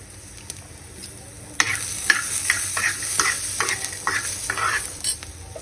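Green chillies, garlic and salt sizzle in a hot pan for a Maharashtrian thecha, with a steady crackling fry broken up by clinking, scraping stirs that start abruptly and carry on close and lively.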